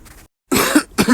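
A couple of harsh, close coughs in quick succession after a moment of silence.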